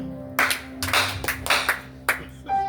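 Congregation at a French-speaking gospel church vigil clapping in bursts of praise to the Lord, several loud uneven rounds of handclaps over a sustained low tone, fairly close.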